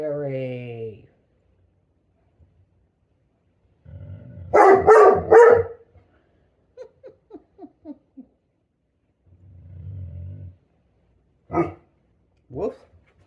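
A Great Pyrenees dog gives a short burst of three or four loud, deep barks close by, followed by softer yips and whines, with someone speaking to it before and after.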